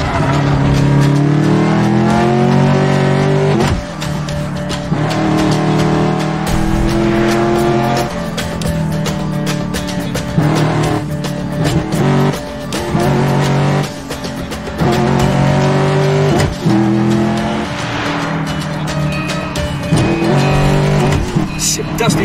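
Heavy city traffic in the Medal of Honor Warfighter video game: loud, continuous engine roar from multiple cars, revving and accelerating with tire squeals and vehicles passing close by, under a dense, steady layer of motor noise.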